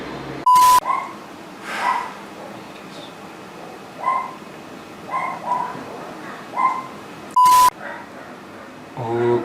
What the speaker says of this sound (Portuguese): Tinha que começar a latir uma cadela bem nesse momento